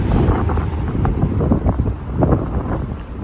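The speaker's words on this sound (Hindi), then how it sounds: "जितनी तेज़ यहाँ पे हवा चल रही है" Strong gusts during Storm Ciara in the UK batter the microphone with loud, rumbling, buffeting wind that surges and eases in uneven bursts, no voices.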